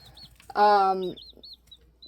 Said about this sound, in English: So these are these brown leghorns.